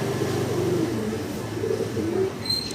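Soft, low coos of fancy pigeons repeat close by over a muffled background hum, a few rolling calls in quick succession.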